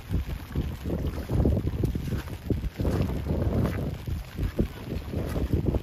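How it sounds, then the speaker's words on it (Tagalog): Heavy rain with strong wind at a fish pond farm, a rough continuous rush of buffeting gusts and pattering that swells and dips, close and moderately loud. "Malakas na ulan na may kasamang hangin"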